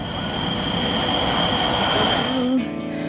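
A train rolls through suburban Beecroft, a steady, loud rumbling wash of wheels and carriages that holds for about two and a half seconds before cutting off abruptly.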